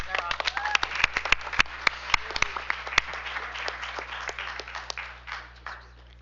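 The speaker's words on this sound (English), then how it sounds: "One more round of applause." Applause from the audience at a school district board business meeting, a scattered round of individual claps, fairly close, thinning out and fading toward the end.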